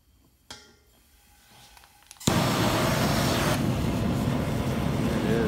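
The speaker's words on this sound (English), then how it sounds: "Should be able to hear gas flow really quick." Propane gas rushing through the valve of a homemade dual forge burner, starting with a soft click and quiet hiss before bursting into a loud, steady broadband roar that holds to the end.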